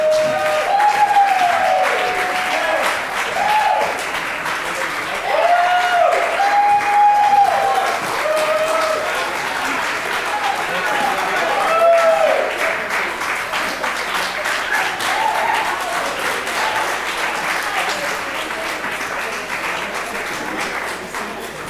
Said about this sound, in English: Can we get another round of applause for this amazing, amazing group of young entrepreneurs?